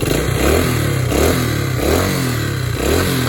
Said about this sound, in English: And we'll rev it up a little bit.